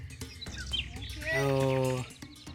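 A bird calls with short chirps and a sustained tonal note during a Hadza hunt in the bush, mixed with rustling and nearby human vocal sounds.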